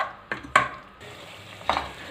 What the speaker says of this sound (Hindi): अब इसको हम 5-6 मिनट ऑयल के अंदर गोश्त को भूनेंगे